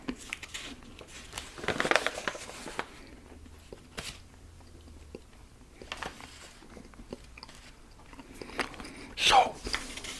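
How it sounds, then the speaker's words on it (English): Someone chews Double Bubble bubble gum close up, giving soft wet mouth sounds and a few sharper bites spread unevenly across the span, faint and intimate in a quiet room. "I'm going to chew some double bubble here."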